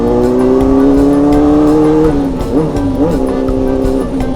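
A loud Yamaha RX King motorcycle engine revs hard, pitch climbing and holding, then blipping up and down in short bursts as the gears change.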